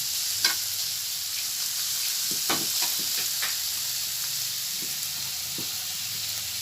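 Carrots, yardlong beans, potatoes and onions fry in a pan for chow mein, making a steady, even sizzle with a few soft stirring clicks and no talking.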